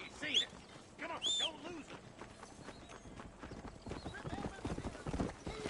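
Horse hooves clip-clop in a steady, rapid rhythm in the Western video game Red Dead Redemption, with a brief whinny or vocal cry near the start and the hoofbeats continuing close and moderately loud.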